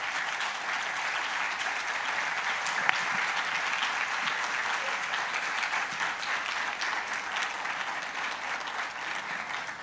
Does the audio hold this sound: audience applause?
yes